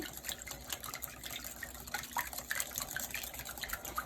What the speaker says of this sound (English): And I'm gonna whisk this up.